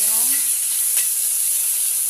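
Onion and garlic sauté in hot oil over a cardboard-fed fire for a bitter gourd dish, producing a loud, unbroken hiss of frying with a brief voice at the start.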